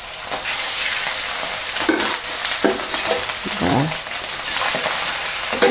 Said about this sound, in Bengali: এই দুইটা ভাজবো।